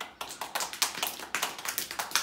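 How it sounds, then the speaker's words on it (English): A classroom group claps in applause for a pupil, a quick run of sharp, fairly quiet hand claps with no talking. "Round of applause for James."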